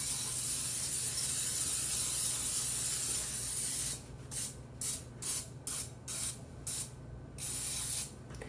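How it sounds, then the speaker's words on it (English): Cooking spray hisses steadily onto a muffin pan while its cups are greased, then breaks into about seven short, sharp bursts with brief gaps between them, close and fairly quiet. "I'm going to spray it really good with cooking spray"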